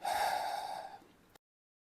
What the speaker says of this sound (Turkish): Burnumdan derin nefes alıyorum. Tüm nefesi ağzımdan geriye bırakıyorum.